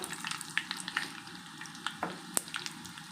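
Mustard seeds, urad dal and green chilies frying in hot oil in a pan for a beans and carrot palya, with soft continuous sizzling broken by sharp pops and crackles and occasional stirring scrapes.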